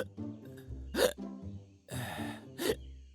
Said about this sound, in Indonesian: Ya, cegukan lagi dah.